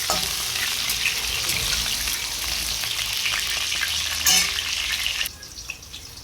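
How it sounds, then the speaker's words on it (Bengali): Potato pieces fry in hot oil until reddish-brown for a goat meat curry, a loud, continuous crackling sizzle with stirring scrapes, then the sizzle drops sharply quieter near the end. "আমি এখানে আলুগুলোকে লাল লাল করে ভেজে নেব।"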